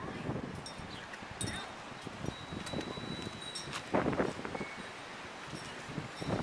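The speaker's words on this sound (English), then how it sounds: "Kind of a windy day, so you probably can't hear what I'm saying." Wind gusts buffet the microphone in low rumbling bursts, with rustling and faint chirps in the background throughout.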